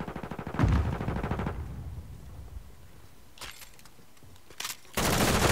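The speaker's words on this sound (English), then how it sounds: "Let me try this gun." Gunfire from a newly tried gun in the video game Modern Warfare 2 open beta, a rapid automatic burst at the start, then quieter shots and another loud burst near the end, with no talking.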